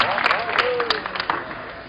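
Audience applause at a concert, with scattered claps spreading through the crowd and a voice speaking over them, moderately loud and close.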